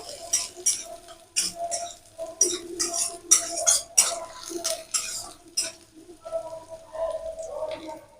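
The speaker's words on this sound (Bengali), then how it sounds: "রসুনটা একটু নাড়াচাড়া করে নেব ভেজে নেবো" A utensil stirs chopped garlic frying in a pan, a run of repeated scraping clinks with soft sizzling underneath, steady and close throughout.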